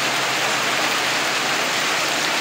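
Rain pours steadily as an even, dense hiss over an open rural area, constant and loud with no distinct drops standing out.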